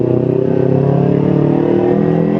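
Steady, loud engine of a Kawasaki Ninja 250 Fi motorcycle said to run rough, idling close up with a constant droning hum and an even pulsing rhythm, alone with no voices.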